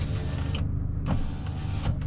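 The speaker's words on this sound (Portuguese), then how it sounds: "Tu está aqui sentado, quer abrir o vidro." The electric power window of a Chrysler PT Cruiser hums as it runs inside the car, a steady close motor whine lasting about two seconds with faint clicks and no talking.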